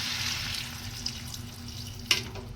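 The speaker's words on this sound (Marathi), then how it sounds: "तर आता आपण याच्यामध्ये पाणी ॲड करूया" Water is poured into a pan of raw cashew vegetable curry, making a steady, soft splashing rush close by that ends with a brief knock near the end; no one speaks.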